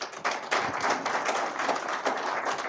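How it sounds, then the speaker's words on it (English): Applause for guests at a formal Foreign Service Academy ceremony, a dense, continuous patter of many hands clapping, moderately loud and sustained across the moment with no speech over it. "Please let us give them a round of applause."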